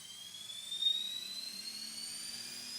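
A bladeless RC helicopter motor spins up with a faint, steady high-pitched whine that slowly rises in pitch and keeps going through the whole stretch.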